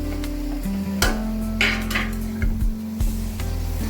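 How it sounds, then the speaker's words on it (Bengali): Boiled potatoes are stirred into a cooked spice mixture in a pan, giving a few scraping clatters and soft squishes over a steady low hum, with quiet gaps between the strokes. "আর আলুর মধ্যে যাতে মশলাগুলো ঢোকে এর জন্য ভালো করে নেড়ে মিশিয়ে নেব"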